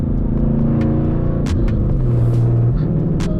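Dodge Challenger engine rumbling loudly inside the cabin during a clutchless shift into fourth gear, the low drone shifting in pitch with faint clicks and knocks over it.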